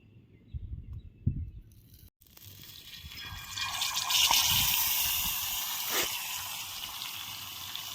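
Chilli-marinated fish laid into hot oil on a dosa pan, a faint quiet start giving way to a rising, steady crackling sizzle that hisses on close by.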